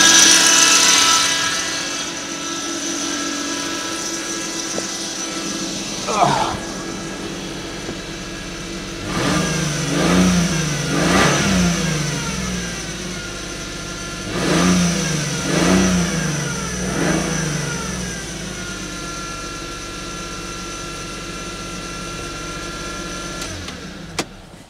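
A 1995 Lexus SC300 engine idles up close and is revved several times in short bursts, each climbing and falling back to a steady idle hum.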